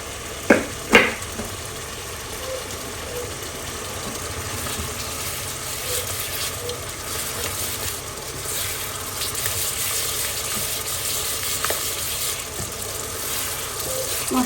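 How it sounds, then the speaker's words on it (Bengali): Ground spices (cumin, coriander, chili, turmeric) frying with garlic in oil in a pan, a steady, even sizzle throughout, with two sharp clinks of a utensil against the pan near the start and faint kitchen clatter later. "মশলাটা ভালোভাবে কষা হচ্ছে"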